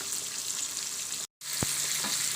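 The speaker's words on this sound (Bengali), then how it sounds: "তো মাছটা আমি ভাজতে দিয়ে দিয়েছি।" Tilapia fish fries in hot oil in a pan with a constant soft sizzle, broken by a short dead-silent gap before the hiss resumes, along with a faint clink.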